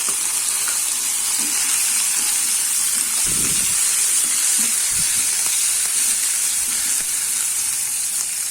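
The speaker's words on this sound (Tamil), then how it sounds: "நான் ஒரே ஒரு தக்காளி கட் பண்ணி வச்சுருக்கேன் அது போட்டுடலாம்" Onion, curry leaves and chopped tomato fry in a pan for toor dal kurma, giving a steady, close sizzling hiss with a few faint stirring knocks underneath.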